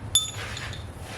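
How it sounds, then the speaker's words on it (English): A metal washer drops during a 2013 Genesis Coupe 2.0T engine rebuild, giving one bright, short clink close by, then a faint rattle as it settles into a quiet shop. "Kind of have to drop the washer in the hole."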